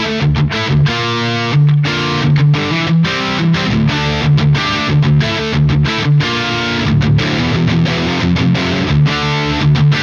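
Electric guitar played through a Marshall JCM 800 amp with no overdrive pedal, loud and crunchy with chugging, rhythmic power-chord riffs that stop and restart in short bursts.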